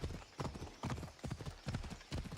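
In the Assassin's Creed Odyssey video game, a horse's hooves clip-clop in a quick, even galloping rhythm of repeated thuds, close and clear with no talk over them.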